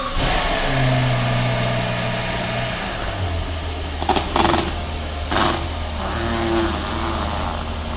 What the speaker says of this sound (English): Now we're gonna bring out the Rolls-Royce.